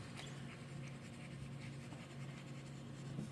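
Fountain pen with Mudskipper ink writing on copy paper: faint, close scratchy strokes in short irregular bursts over a low steady hum.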